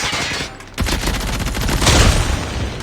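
Rapid bursts of automatic gunfire from the M13 rifle with the Liminal Flare skin in Call of Duty Mobile, loud and dense, firing almost continuously after a brief gap and swelling toward the end.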